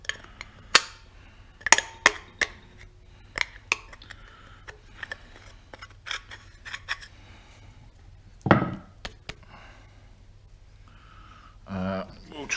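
Metal tool scraping and tapping at carbon deposits on a Ford Transit 2.4 Duratorq EGR valve, a series of sharp clinks and short scrapes spread irregularly, with a person talking between them.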